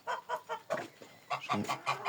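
Several roosters cluck in a steady run of short, repeated bursts, fairly close and loud, with other fowl sounds mixed in and no one speaking.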